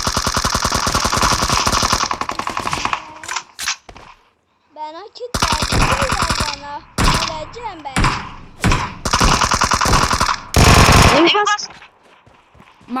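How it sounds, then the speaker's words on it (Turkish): In an online shooter game, rapid bursts of gunfire crackle in dense volleys with short silent gaps between them, loud and close, while a player talks over parts of it. "Bunlar kafayı yemişler buradan buraya pompalı atıyor"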